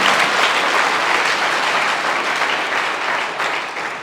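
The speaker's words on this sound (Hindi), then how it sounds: "एक बार फिर से तालियां बेटी की।" Dense, loud applause from an indoor audience after a girl's speech, continuous and even for a few seconds and easing slightly toward the end, with no talking over it.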